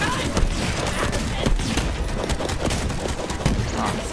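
Rapid, dense gunfire in Borderlands 3, with continuous overlapping shots and blasts and a few heavier booms, loud and close, with players' voices at times under the shooting.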